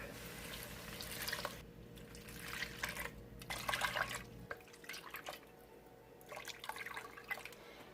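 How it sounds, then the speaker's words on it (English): Milk poured into a pasta pot for a one-pot pesto pasta, an unbroken liquid pour with faint trickling and dripping that runs steadily, then eases off partway through. "And now we're going to add 5 cups of milk."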